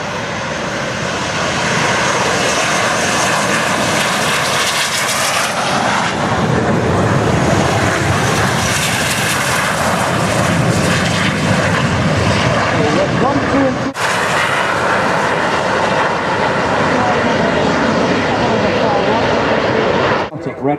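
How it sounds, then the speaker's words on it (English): Red Arrows jet engines accelerating for takeoff at the Farnborough air show, a loud, steady roar that builds and holds for the whole stretch, with a brief dip midway and a crowd-noise bed underneath. "Those engines now accelerate the aircraft."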